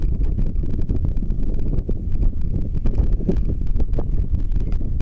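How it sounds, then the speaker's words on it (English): Strong outdoor wind buffets the microphone in a constant low, roaring rumble with uneven gusts throughout, at an air-rifle shooting spot. "It is very windy right now."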